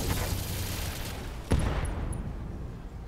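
BattleTech mechs opening fire together on a Black Knight in an urban battle, a roaring volley of weapon discharges with a sharp crack midway and a fading, rumbling tail.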